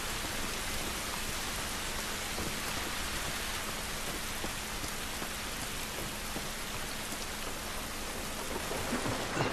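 Steady rain pours down in The Last of Us Remastered, a dense, even hiss of drops on surfaces that stays constant throughout with no talking.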